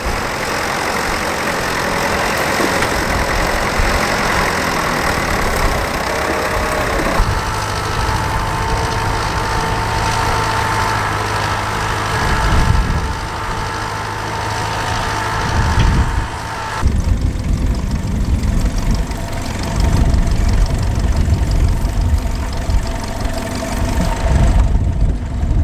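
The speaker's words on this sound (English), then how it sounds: "Our next tractor's this 50s Nuffield Universal." 1950s Nuffield Universal tractor at a ploughing match, its engine running with a loud steady chugging drone that shifts in tone as the load changes, close by with no talk.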